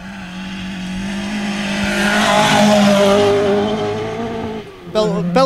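A well-prepared Ford Escort Mark II rally car runs on a forest rally stage, its engine holding a loud, steady drone that swells and then fades slightly before a sharp revving burst at the end.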